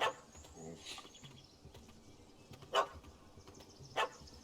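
A dog barks a few times at a cat up a tree in The Witcher video game, short separate barks at moderate distance over a low ambient game background.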